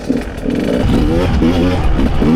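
Dirt bike engines snarl and rev on a motocross track, a Stark Varg alongside a KTM 150, with a loud, close, buzzing, fluctuating tone and brief pitch sweeps as the throttle rises and falls.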